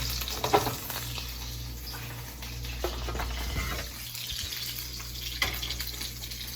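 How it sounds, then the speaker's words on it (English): Food sizzles steadily in a frying pan, a constant crackling hiss with occasional louder pops and faint clinks nearby. "now while we let that sizzle"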